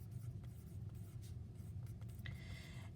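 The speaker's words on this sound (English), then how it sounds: "I'm going to write this up here" Marker or chalk scratching on a classroom board in soft, faint strokes over a steady low room hum, with one sharper squeak near the end.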